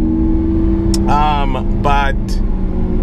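The engine of a Lamborghini Aventador, just woken from winter storage, gives a loud, steady, deep running rumble. Someone talks briefly over it.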